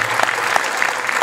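Steady applause from a crowd, a dense patter of many hands clapping throughout, fairly close and even in loudness.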